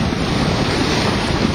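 Seawater rushing and splashing against a sailing boat moving under sail at over 7 knots, a loud continuous wash of surf and wind noise with no break.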